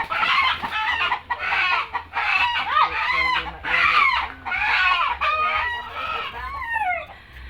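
Chickens cluck and a rooster crows in a rural backyard in the province, with several birds calling in overlapping bursts close by over a faint low hum.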